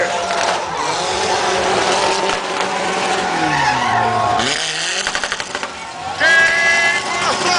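A drift car at a drifting show in Tramandaí, Rio Grande do Sul, skids loudly with sustained tire squeal and roaring engine, screeches rising and falling over several seconds while a crowd and announcer's voice carry on beneath.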